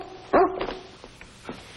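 A dog being told to sit for a flea-powder treatment gives one sharp, close bark, then a few softer whimpers and yips trailing after it, with no talking over them.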